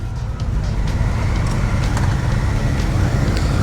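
Triumph 660 motorcycle engine pulling hard under acceleration, a loud, steady rumbling roar mixed with heavy wind noise, close and continuous throughout.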